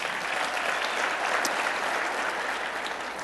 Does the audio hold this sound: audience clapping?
yes